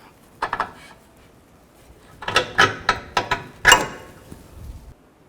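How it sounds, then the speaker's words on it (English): A 21mm socket wrench loosens a nut on the front lower control arm of a GMC Acadia, giving bursts of close ratcheting clicks, a short run, then two quicker clusters, in a quiet space. "a 21mm socket and a 21mm wrench on the nut and loosen this up"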